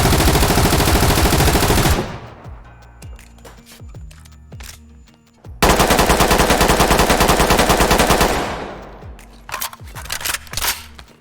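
Two long bursts of rapid automatic M4 rifle fire in a video game, loud and close, each followed by scattered shell clinks and echoing tail.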